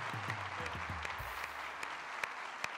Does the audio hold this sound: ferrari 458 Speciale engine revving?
no